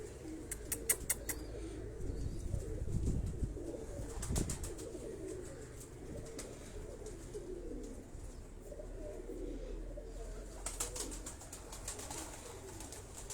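Soft, low coos of Sialkoti pigeons repeat in gentle rolling bursts, close by, with occasional rustling and faint clicks in a quiet setting.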